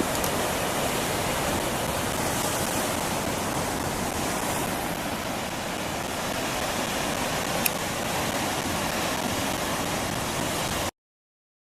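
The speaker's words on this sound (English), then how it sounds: "we just watch the waves" Ocean waves breaking on the shore near a harbor town, a steady, full roar of surf that washes on evenly for about eleven seconds before cutting off abruptly, with no voices.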